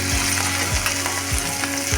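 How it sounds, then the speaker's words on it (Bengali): Chili chicken sauce sizzles loudly in a hot pan just after soy sauce goes in, a dense continuous crackle with a few rhythmic scraping strokes of a spatula. "আর দিলাম সয়া সস"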